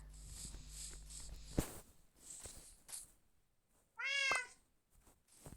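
A single clear cat meow rings out near the end in Minecraft, preceded by soft footsteps and light game sounds, with no talking.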